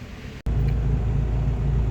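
A car driven on a test run to check a newly installed GPS speedometer, its steady engine and road rumble loud and close after a brief cut near the start, with no talking.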